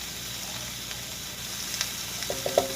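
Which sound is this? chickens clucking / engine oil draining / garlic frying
garlic frying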